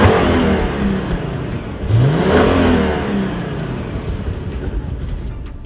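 A large SUV engine revs up, climbing with a droning hum before settling back into a steady, slightly rough idle, close and loud.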